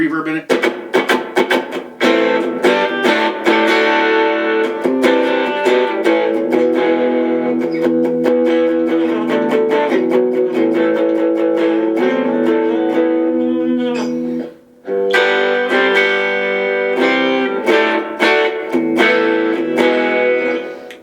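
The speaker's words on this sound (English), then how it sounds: "channel 2, more of just a kind of an overdrive" Overdriven electric guitar through the overdrive channel of a Positive Grid Spark GO amplifier, with some reverb, playing sustained chords and riffs, loud and continuous, with a brief gap near the end before resuming.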